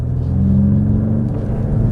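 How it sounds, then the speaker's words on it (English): A 2026 Mercedes-AMG E53 wagon's inline-six engine in Sport Plus mode, partly with enhanced engine sound, hums with a low, steady rumble from inside the cabin, holding an even tone without strong revving. "Some of that is, you know, enhanced engine noise, but you still have an inline six"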